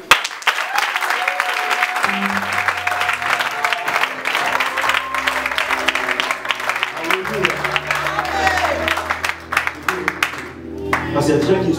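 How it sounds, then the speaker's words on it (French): A church congregation applauding during a service, dense sustained clapping and cheering filling the hall, with a preacher speaking over it through amplification and a low accompanying organ or keyboard. "Et je veux que tu puisses acclamer pour toi."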